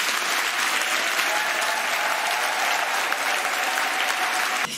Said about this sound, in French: Il faut applaudir pour elle.